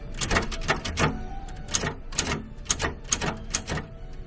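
Typewriter keys clack in a quick, uneven stream of sharp taps, close up and steady, with no voices, in a secondhand shop.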